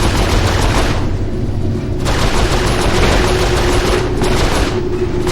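Rapid turret gunfire in the Saints Row IV video game, a dense, continuous stream of loud automatic shots with booming impacts throughout, with no voices.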